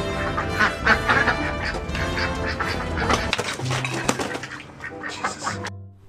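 Several ducks quacking loudly and continuously nearby, overlapping in a busy chorus before falling quiet at the end.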